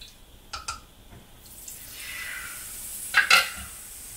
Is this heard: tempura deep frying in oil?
yes